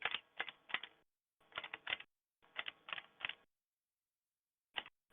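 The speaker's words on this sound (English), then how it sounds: "What are you typing?" Quick bursts of keyboard typing in three clusters of rapid key clicks, then a pause and one last short flurry; close and fairly quiet, no talking.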